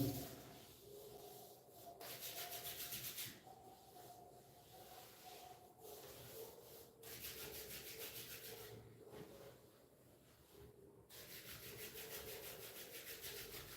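Hands rub together during a yoga class, a soft repeated brushing hiss in several bursts with brief pauses between them, close and quiet.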